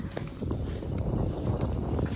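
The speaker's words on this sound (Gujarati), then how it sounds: "તો જો કેટલો મસ્ત પવન ને એવું આવે છે" Steady wind rushes and buffets the microphone with a low, continuous roar and faint intermittent gusts.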